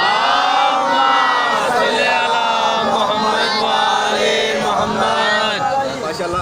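A large crowd at a Muharram majlis in Jaranwala loudly recites salawat in unison, a dense swelling roar of many voices that is close and sustained.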